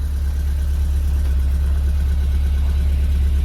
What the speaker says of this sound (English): The Type S exhaust. Back in a dual form.